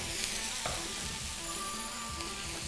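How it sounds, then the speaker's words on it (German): Vegan food fries in a pan, with a constant close sizzle and a few soft scrapes of stirring, no talking. "Kann man ein bisschen mit anbraten"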